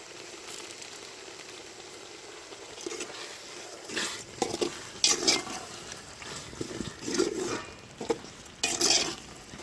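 Curd being stirred into a fish biryani gravy in a pot over a village cooking fire gives soft, irregular scraping and wet sloshing bursts with a faint sizzle beneath, quiet and close.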